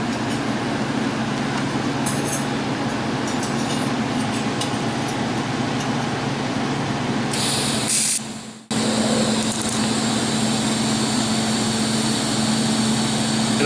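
Continuous welding on a spider welding kit, filler metal added in small tacks from the top, a steady crackling buzz throughout with a brief dropout near the end before it resumes.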